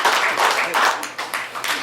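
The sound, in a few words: audience applause at a hypnosis show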